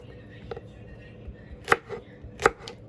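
Knife slicing and dicing organic okra from Sprouts grocery store: two sharp chops stand out over low kitchen background noise, with a fainter cut just before them.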